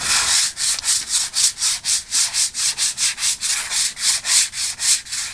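Steady, rhythmic back-and-forth sanding, a rasping scrub repeating roughly four times a second, close and loud with no talking.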